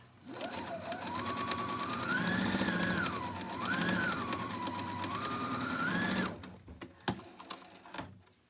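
Sewing machine stitching a surgical cap without backstitching, a fast continuous rattling whir whose pitch rises and dips over six seconds before stopping, followed by a few soft clicks and handling knocks.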